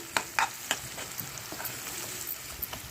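Ginger garlic paste sizzling and frying in a pan, with soft steady crackle and several sharp spatter pops, close and fairly quiet, no voices.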